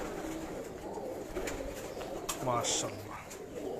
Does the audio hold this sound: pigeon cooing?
yes